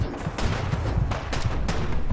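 Rapid bursts of gunfire from a Fallout 4 wasteland firefight, several loud sharp shots cracking in quick succession over a short stretch.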